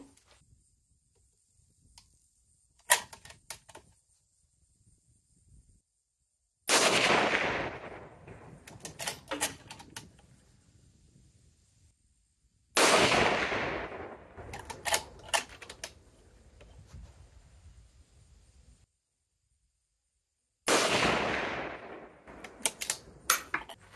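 Three rifle shots are fired while testing a MagnetoSpeed chronograph, each a sharp, loud crack with a short decaying tail, spaced several seconds apart, with quieter clicks and handling noises in between.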